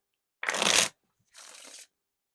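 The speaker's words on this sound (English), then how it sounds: "the riffle shuffles and bridge shuffles here are pretty smooth" A deck of playing cards is riffled in one sharp, loud burst, followed by a softer, cascading bridge as the cards fall back together, with silence on either side.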